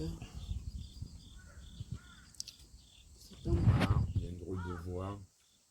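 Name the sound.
crow cawing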